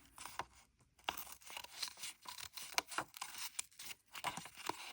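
Scissors snip through paper while a Christmas ornament shape is cut out, a steady run of short crisp crunching cuts close up, with no talking.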